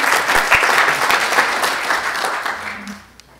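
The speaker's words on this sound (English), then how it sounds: "A big applause to Roberta." A conference audience at an air navigation week session on aeronautical information management applauds a presenter, giving sustained, full clapping that thins and fades out near the end.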